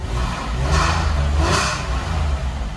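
A Porsche 996 GT3 engine runs steadily up close, with a low rumbling idle and two brief swells of revving in the middle.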